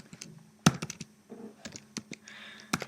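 A pip command is typed on a computer keyboard in quick, uneven bursts of close, crisp keystrokes, with one sharper tap standing out.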